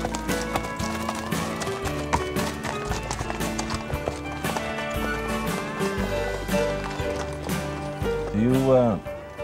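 Horse hooves clip-clopping at a steady trot during a trail excursion in Newfoundland, rhythmic and fairly close, mixed under music throughout.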